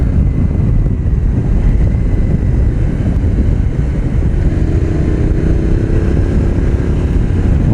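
A KTM Duke 890 or 790 motorcycle cruising at around 90 on a winding road, its engine a loud continuous drone buried under heavy wind rush from riding, with no talking.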